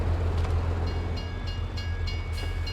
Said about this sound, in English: Hopping for the train.